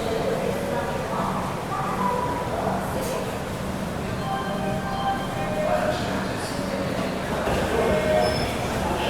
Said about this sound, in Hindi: निकल गई अपनी Pataliputra superfast express Itarsi junction से